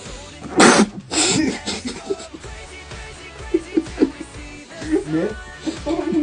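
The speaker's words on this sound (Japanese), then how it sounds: "今日は口に含んだ水をくしゃみをしても吹き出さないかっていう実験をしたいと思います。" A person sneezes with a mouthful of water, giving a sharp burst early on followed by a second spluttering blast, then quieter throaty noises and breathy sounds.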